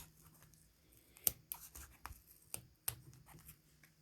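Scissors snipping through the yarn of a handmade pom-pom for a knit hat, heard as faint, sparse, irregular crisp cuts and rustles in a quiet room.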